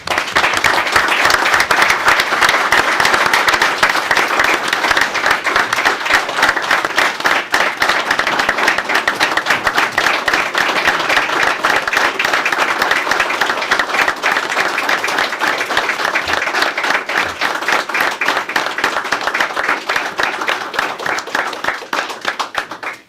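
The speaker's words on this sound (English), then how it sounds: "let's give him a round of applause" Sustained audience applause at a Lackawanna County commissioners meeting honoring a sergeant's 40 years of service, a dense, loud crowd of clapping hands that holds steady for over twenty seconds and thins slightly at the end.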